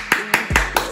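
A few spaced hand claps, about four distinct sharp strikes in a second, carried along by the girl leading a makeup challenge who has just called for a round of applause, with steady background noise between claps.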